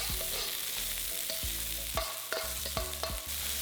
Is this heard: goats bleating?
no